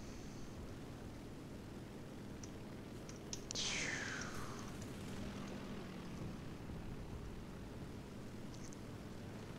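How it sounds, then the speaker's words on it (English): A propeller warplane in the video game War Thunder roars past overhead once, its engine sweeping down in pitch over a few seconds above a steady background rumble of gameplay. "I hear a plane."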